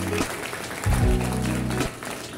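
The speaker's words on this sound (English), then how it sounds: "Let's give them a big round of applause." An audience at a graduation ceremony applauds, a broad wash of clapping heard through a hall while a voice briefly speaks over it.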